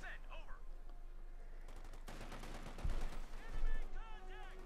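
Gunfire in the Company of Heroes 2 battle between Wehrmacht and US forces, a Sherman and infantry trading shots at close range; dense bursts of machine-gun and rifle fire rattle over a steady battle din, with a few heavier thumps toward the end.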